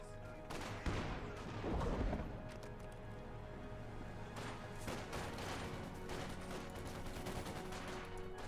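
Infantry small-arms fire in the World War II strategy game Company of Heroes 2, including conscripts and light machine guns. It is a steady, distant-sounding crackle of overlapping shots with a few louder bursts early on, fairly quiet and with no voices.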